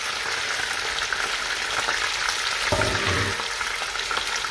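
Chopped onion and garlic frying in a pot as the base for a stew, a loud continuous sizzle with a brief burst of stirring partway through.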